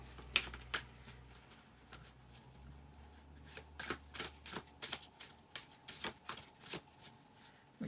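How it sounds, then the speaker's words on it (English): Extra-long, thin, bendy playing cards being shuffled, close and quiet, with a series of rapid riffling bursts coming faster and more regularly toward the end, with no talking. "They're actually difficult cards to shuffle due to they're kind of extra long"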